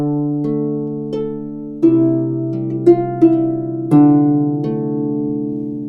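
A harp plays section B of Scarborough Fair for a beginners' lesson: slow, clear plucked notes and chords ringing out one after another with sustained resonance, close and alone.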